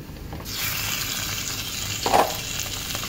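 Mutton liver fries in a pan with browned onions, giving a close, steady sizzle with a brief scraping stir partway through.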